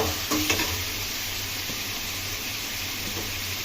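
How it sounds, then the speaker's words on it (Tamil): Raw banana being stirred with tomato and onion in a frying pan, a continuous close sizzle with faint scraping strokes of the spoon near the start, steady and fairly loud with no voices. "இப்போ லைட்டா நம்ம கிண்டிக்கணும்"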